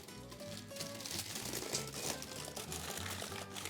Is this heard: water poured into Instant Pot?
yes